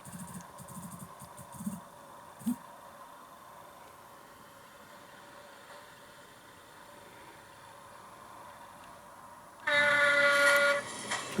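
A Hornby model train fitted with an HM7000 Bluetooth sound decoder idles with faint engine sounds and a few soft clunks, then gives a loud, sustained horn blast near the end.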